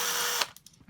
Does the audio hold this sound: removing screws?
yes